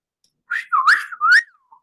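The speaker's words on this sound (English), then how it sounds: "I whistled." A man whistles alone on a sports betting talk show, a short sliding tune of three or four bright, close notes that rise and fall.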